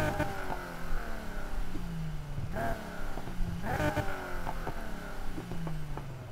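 In-game Nissan 350Z exhaust in NFS Heat revs repeatedly, rising and falling engine tones with sharp blips, moderately loud with no talking.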